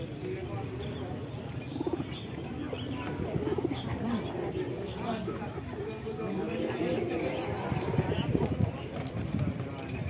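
Racing pigeons at a market coo softly in low, repeated rolling calls amid light chirps and shuffling, with someone talking over them.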